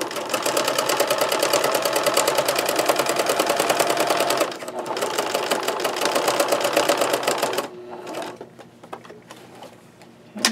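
A sewing machine stitches a canvas journal cover in a fast, even mechanical rattle, pausing briefly once, then running again before slowing to slower, sparser stitches and a final clunk.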